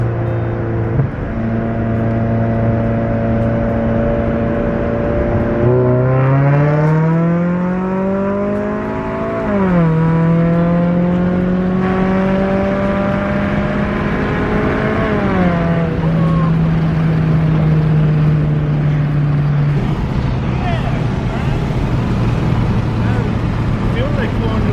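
A tuned Ford EcoBoost turbo engine accelerates hard in third gear from about 3,000 to 6,000 RPM on an empty street, its pitch climbing in repeated surges that drop back at each shift, loud and close throughout.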